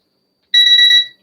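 A three-minute timer alarm at an auction goes off with a single short, steady high-pitched electronic beep lasting about half a second, loud and alone after silence.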